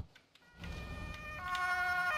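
Ambulance siren in the video game Emergency 4 starts after a brief quiet moment and wails steadily over a low engine rumble with tonal bands.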